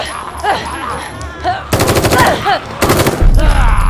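Rapid bursts of gunfire in The Evil Within 2, two loud clusters of fast repeated shots in close succession, preceded by quieter game sounds and brief vocal noises.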